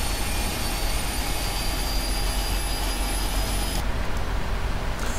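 Steady, loud jet engine whine in a flight simulator game, with a high tonal hum over a broad roar, continuous throughout, the upper hiss dropping away briefly near the end.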